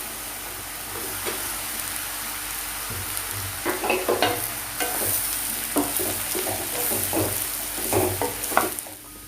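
Nutmeg pickle drops into hot oil seasoned with asafoetida, bursting into a steady sizzle with scattered crackles and spatters and the clatter of stirring, close and uninterrupted throughout.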